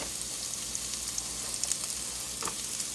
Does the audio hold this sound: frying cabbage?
yes